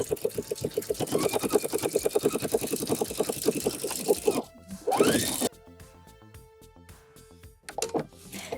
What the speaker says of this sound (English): I'm going to add my edge stitch first.